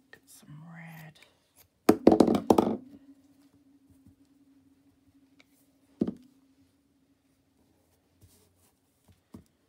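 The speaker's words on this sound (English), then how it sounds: "I'm having fun knocking my glue over every time I put it down" A glue bottle knocks over on a crafting table with a short, close clattering burst, then one sharp knock later. Faint soft rustling comes before it, and the room is otherwise quiet.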